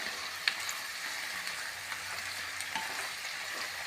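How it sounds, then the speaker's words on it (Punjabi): Onions frying in a pan for an onion and vadi sabzi, a steady close hiss with a few faint clicks of stirring, no voices. "ਆਪਾਂ ਜੀ ਪਿਆਜ਼ਾਂ ਨੂੰ ਭੁੰਨ ਰਹੇ ਹਾਂ"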